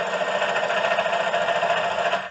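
A sewing machine stitches quilt binding folded over a previous stitch line, giving a steady, continuous motor whir for about two seconds before it stops, with no voices.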